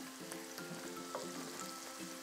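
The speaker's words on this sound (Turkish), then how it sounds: "Eti tencerenin içerisine aldım, yaydım iyice" Meat spread across the base of a pot searing over high heat, a continuous crackling sizzle with scattered pops, close and steady with no talking.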